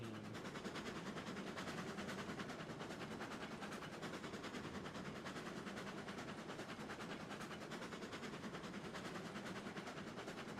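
Train moving in the video game Railroads Online, a dense continuous rumble and clatter of wheels and cars that stays steady and fairly loud throughout, with no talk over it.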